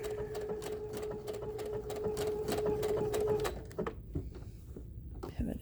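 Sewing machine stitching a quilted wall hanging, a rapid, even mechanical chatter of needle strokes for a few seconds before it stops, followed by faint clicks and handling.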